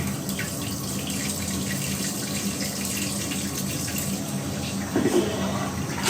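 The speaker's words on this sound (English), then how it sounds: "One of the great features is the power of the flush" An EPLO iX7 smart toilet flushing with a strong, steady rush of water that runs continuously, with a brief gurgling surge near the end.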